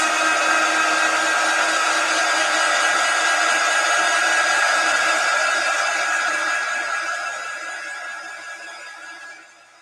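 A hair dryer blows steadily and loudly on a chalk paste stencil, a continuous broadband whoosh that holds level for most of the run before tapering off near the end, with no talking.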